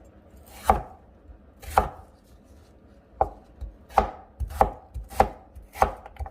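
Radish cut into bite-size pieces with a knife on a board for Korean beef and radish soup: seven crisp, loud chops, spaced unevenly at first and then coming faster toward the end, with no voices.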